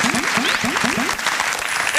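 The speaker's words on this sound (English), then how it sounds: "The Sheila Oliver fake applause worked, everybody." Fake applause sound effect, steady clapping throughout, fairly loud and close, with a voice talking over it.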